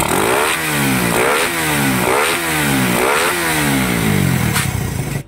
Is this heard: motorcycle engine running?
yes